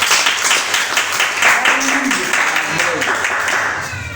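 A church congregation applauds and acclaims the Lord, a steady wash of clapping and cheering voices that holds throughout and fades slightly at the end.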